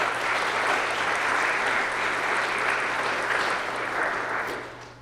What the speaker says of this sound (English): can we give them a round of applause for a moment?